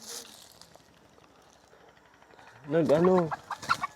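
A chicken clucks loudly and close by in a quick burst of several rising calls near the end, after a mostly quiet stretch with faint background sounds.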